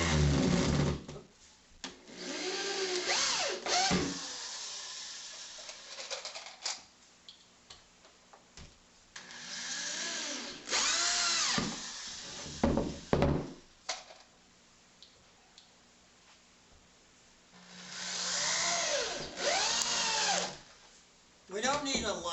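Power drill driving deck screws into 2x4 boards, several separate bursts of whirring with rising pitch as each screw sinks in, separated by quiet pauses and some talking.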